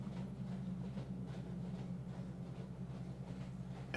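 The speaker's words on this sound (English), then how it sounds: "the train is slowly starting to slow down" A train rolls along its rails with a continuous low rumble and a soft, rhythmic clatter of wagons, an even and moderately distant drone held steady throughout without any voices.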